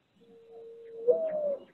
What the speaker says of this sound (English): A lot of people think they have owls singing in the morning, and they do not. They have doves outside their window.